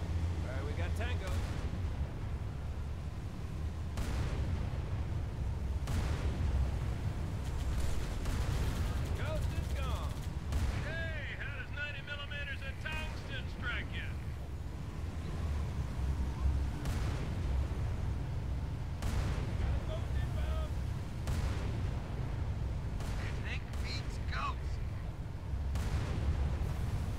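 A tank cannon in Halo 3 fires in heavy booming blasts spaced a few seconds apart across a rumbling battle bed, with gunfire and game voices mixed in.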